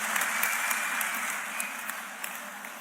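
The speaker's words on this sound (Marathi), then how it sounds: "टाळ्या अशाच वाजत राहिल्या पाहिजे" Crowd applauding at a political rally in Maharashtra as the deputy chief minister is introduced, a steady wash of clapping from a large audience that holds and slowly fades.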